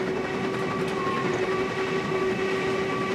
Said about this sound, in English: Doing really well, blow the whistle.